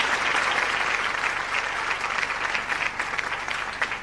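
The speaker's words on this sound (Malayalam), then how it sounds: "കുട്ടികളുടെ കരഘോഷം, കുട്ടികൾ അതിൻ്റെ കൂടെ ആഘോഷം ഏറ്റെടുത്തിരിക്കുകയാണ്." Children clap together in a steady, dense burst of applause at a celebration, close and lively, continuing without pause for a few seconds with no talking.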